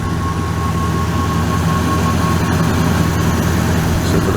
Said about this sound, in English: It's a slow crank, man. Slow crank.